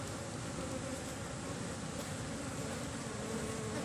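Asian honey bees (Apis cerana) from a colony being transferred into a hive box make a thick, constant, close-up drone that never lets up, heard alone without any voices.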